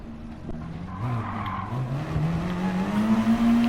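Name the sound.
race car spinning out in video game Gran Turismo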